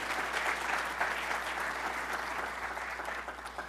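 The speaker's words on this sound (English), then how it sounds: "So just a round of applause for them to bring all this together." A lecture audience at a university technology talk applauds in dense, continuous clapping that stays steady and full for several seconds, with no speech on top.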